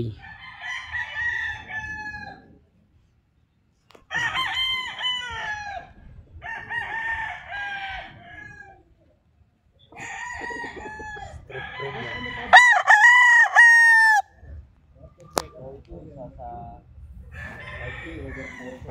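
Sweater bloodline gamefowl roosters crow repeatedly at a farm in Tagaytay City. Several loud, drawn-out crows come one after another with brief pauses, some close and some farther off, and faint clucking and background farm noise can be heard between them.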